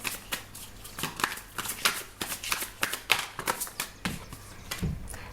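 Tarot cards being shuffled by hand, a quick run of crisp papery riffles and flicks close up, fairly quiet and steady with no talking over them.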